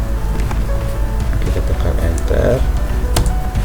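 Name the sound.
computer keyboard typing, pressing enter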